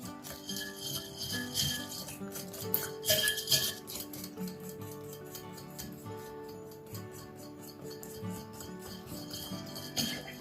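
A whisk clicks and scrapes rapidly around a bowl of egg, milk and flour batter, a close, continuous clatter of metal on the bowl with no talking.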